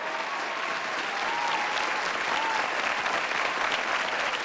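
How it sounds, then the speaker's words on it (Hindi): Steady, even applause from a large audience at the Jashn-e-Rekhta grand mushaira, a dense wash of clapping that carries on without a break, heard from some distance and moderately loud. "जोरदार तालियों से उनका इस्तकबाल करें।"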